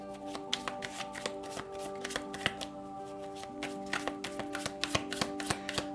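Tarot cards are shuffled by hand in a steady run of close, crisp riffling and soft flicks for the whole stretch, with no talking over it.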